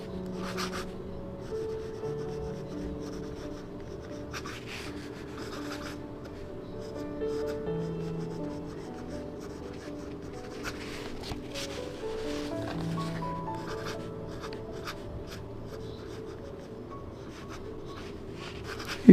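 Flex nib fountain pen, a Manga Carta Mag 650 or Mag 600, scratching across paper in soft, close rubbing strokes, a continuous light scrape with small pauses between words.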